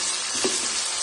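Drumstick (moringa) pieces fry in oil in a pan for a pickle, giving a steady, close sizzle with a brief stirring scrape midway.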